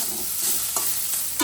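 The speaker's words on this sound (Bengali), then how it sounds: "চিচিঙে ভাজা হয়ে গেল, এবার নামিয়ে নেব।" Snake gourd with poppy seeds frying in a pan, a continuous soft sizzle broken by a few brief scraping stirs of a spatula, close and steady with no voices.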